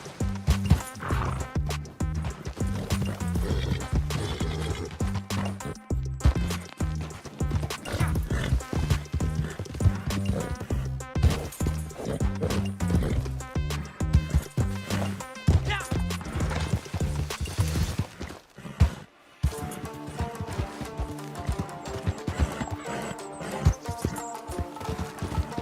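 In the Red Dead Online video game, a Kentucky horse gallops and jumps with quick, rhythmic hoofbeats. Loud neighs and whinnies break in, a brief gap of quiet comes near the end, and the galloping starts up again afterward.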